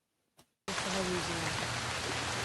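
Light rain falls as a continuous, even patter that starts abruptly after a short quiet moment and carries on steadily to the end.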